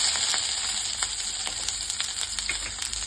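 Mustard seeds crackling and popping in hot oil on a medium flame, a dense steady sizzle with quick irregular pops close by, no voices.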